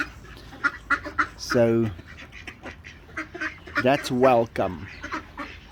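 Egg-laying farm ducks quack in loud, nasal bursts, several calls clustered near and repeated, while a person speaks briefly among them outdoors.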